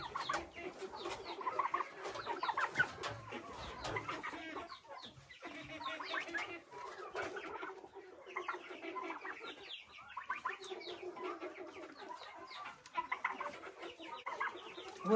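Chickens cluck continuously in a backyard coop, a busy overlapping chorus of short calls from several birds nearby, with occasional louder squawks.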